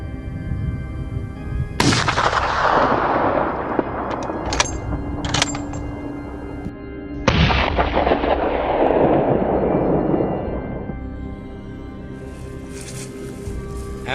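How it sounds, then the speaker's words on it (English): Gunfire during a wild boar hunt on Texas farmland, two sharp loud blasts several seconds apart, each rolling into a long echoing decay through the valley. "The sound of gunfire echoed through the valley"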